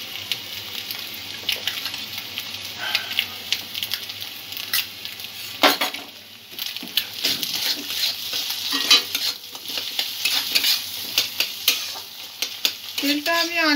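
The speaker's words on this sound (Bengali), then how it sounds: "অল্প তেলে ডিমটা ভেজে নিলাম" Beaten egg scrambles in a little oil in a pan, giving a bright continuous sizzle broken by repeated clinks and scrapes of a utensil stirring against the metal.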